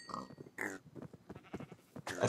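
Pigs in Minecraft grunt and oink in short, repeated snorts, close and moderately loud, in an irregular run of bursts.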